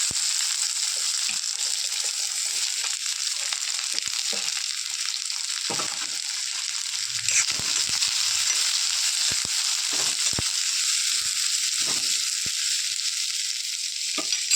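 Onion and green chilies frying in a pan with urad dal, a steady, even sizzle throughout with occasional light stirring scrapes, close and continuous.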